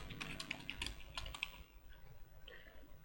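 Quick bursts of computer keyboard typing, a run of sharp key clicks at the start and then a few scattered taps, soft and close.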